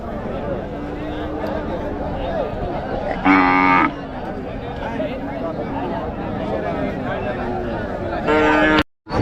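Two drawn-out moos from calves rise above a steady hubbub of crowd chatter and background noise at a cattle market, the second one near the end, both fairly close and loud.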